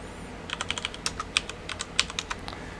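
Quick taps on a computer keyboard, close and crisp, in a rapid irregular burst of about twenty keystrokes with no talking.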